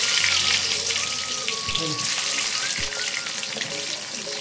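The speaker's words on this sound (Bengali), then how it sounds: "তেলটা গরম হওয়ার পর এক এক করে আলুগুলো আমি দিয়ে দিলাম" Potatoes fry in hot oil in a wok, giving a steady dense sizzle with crackling pops and a few brief clinks, close and continuous throughout, with no voices.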